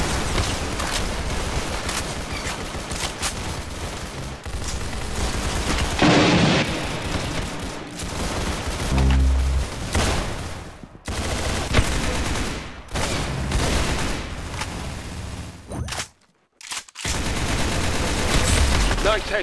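Dense, nonstop gunfire from the Roblox game Arsenal, rapid bursts and cracks filling the mix at high volume with brief gaps, while voices talk over the action.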